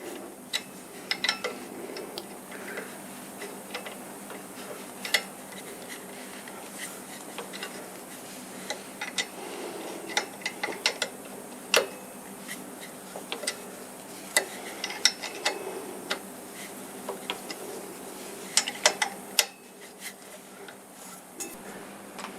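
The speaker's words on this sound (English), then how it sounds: "Let me show you what happens if you tighten the bolt up the way it should be." A wrench tightening the motor bolt on a wood turning lathe, a series of small metallic ticks and clicks at close range, irregular and fairly quiet, with no one talking.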